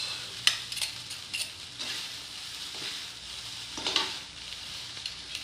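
Spatula scraping and stirring fried rice in a frying pan over a soft sizzle, with irregular clinks and scrapes against the metal, close up and without talking.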